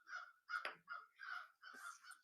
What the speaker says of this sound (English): That murder of crows.